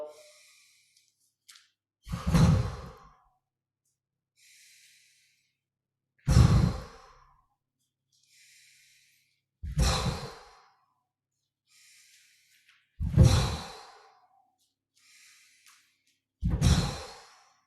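Slow, deep breaths from a Wu Dang style qigong breathing exercise: five strong, drawn-out sighing exhales at an even, unhurried pace, each preceded by a soft, faint inhale, close to the microphone with no talk.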